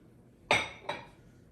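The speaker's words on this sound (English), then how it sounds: "Just gotta shake it a little bit to get it out of this bowl" Two sharp clinks about half a second apart as a bowl of powdered sugar is knocked and shaken out, each tap ringing briefly and fading into a quiet room.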